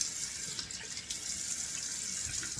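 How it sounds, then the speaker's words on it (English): Cold water runs steadily from a tap into a bathroom sink, a continuous close splashing hiss with no talking. "let me pause and turn the cold water on."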